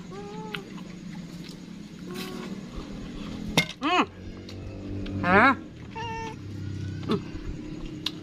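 Cat meowing several times in short rising-and-falling calls, fairly close, with people talking throughout and occasional light clinks of dishes in the background.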